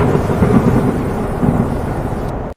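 Cartoon thunder-like roar echoing through a jungle, a loud deep rumbling boom that rolls on steadily and then stops suddenly.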